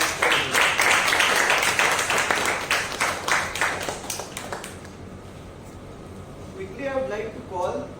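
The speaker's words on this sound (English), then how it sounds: "Can we have a huge round of applause for Toastmasters?" Applause from an audience at a Toastmasters club meeting in Kolkata: dense clapping for about five seconds, then tapering off as a voice begins speaking near the end.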